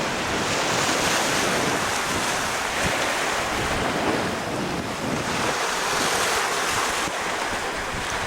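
Steady roar of ocean surf crashing close by at high tide on a Prince Edward Island shore, continuous and loud, with heavy wind buffeting the microphone throughout.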